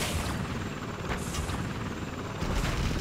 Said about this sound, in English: Now take down this helicopter.